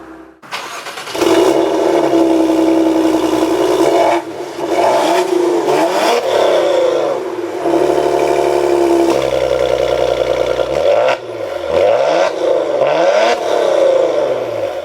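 A 2018 Maserati Quattroporte GranLusso engine cranks and fires up, then revs repeatedly, rising and falling in pitch, loud and close with no talking.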